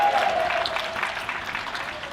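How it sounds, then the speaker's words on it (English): Crowd at an outdoor anti-fracking rally cheers and claps to celebrate Scotland's fracking ban, a steady, dense wash of applause and shouts held at even loudness throughout without a break. "Let's just cheer that again."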